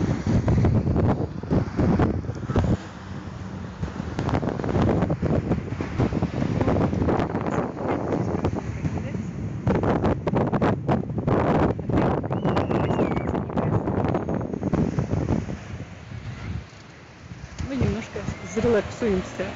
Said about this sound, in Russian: на берегу прекрасного лазурного моря в Ницце.